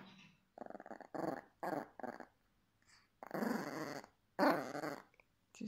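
A dog growls in repeated bursts on a sofa, close and fairly loud, with short pauses between the rumbling growls and a faint whimper at the start.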